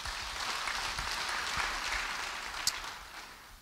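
Church congregation clapping together, a dense wash of applause that holds steady and then fades out within a few seconds, without speech.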